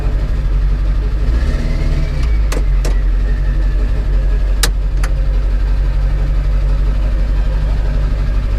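A Ford F550 with a Powerstroke diesel engine runs at a steady, heavy idle, a deep continuous rumble close by. A few sharp clicks sound partway through.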